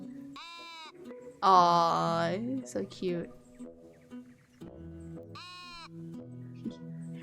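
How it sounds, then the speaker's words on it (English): Several wavering, high-pitched sheep bleats in the video game Tiny Glade come in separate calls, with a person talking softly between and over them. "Look at the little sheep."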